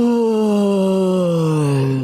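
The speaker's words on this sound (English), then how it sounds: "But yes, it is someone yawning." Person yawning in a long, loud, drawn-out vocal groan that slowly falls in pitch over about two seconds, heard close and alone.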